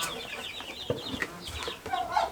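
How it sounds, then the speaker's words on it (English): Backyard chickens cluck and chatter near a greenhouse, with newly hatched baby chicks among the adult birds; short overlapping calls and peeps come close and moderately loud, no talking. "I did have 4 more baby chicks hatch, and they're out here with the big guys."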